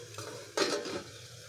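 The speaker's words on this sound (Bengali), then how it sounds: "এবার আমি ঢাকনাটা তুলবো" A lid clanks as it is lifted off a cooking pan holding a sour-spicy fish dish with fenugreek, a short metallic knock followed by a soft hiss of steam and faint sizzling.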